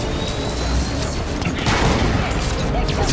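Energy weapons fire from Jackal enemies in the shooter video game Halo 5, a dense, constant barrage of shots and impacts blended with game noise, with some talk underneath.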